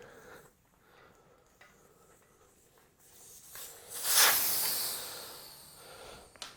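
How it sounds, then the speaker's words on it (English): Air escapes from a bike tyre valve in a single loud hiss lasting about a second and a half, which then tapers off against a quiet background. "So start by removing the air."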